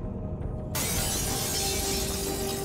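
A lamp falls onto a carpet and shatters in a loud, sudden crash of breaking glass that fills the room and keeps going as a bright, sustained noise to the end.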